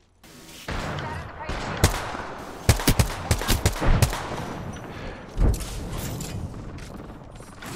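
Gunfire in the video game Apex Legends, a quick string of sharp shots and short bursts with a louder crack near the end, over a steady background of game ambience.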